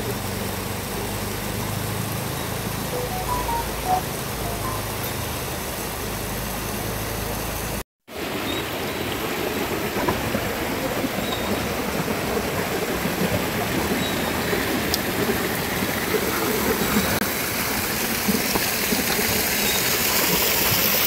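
Water gushes from a pipe in a steady, loud rushing hiss, broken by one brief cut partway through, after which the rushing resumes with a rougher, more turbulent texture.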